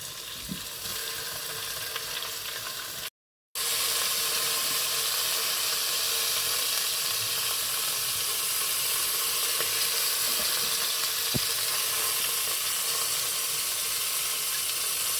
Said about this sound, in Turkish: Etlerimizi mühürlüyoruz önce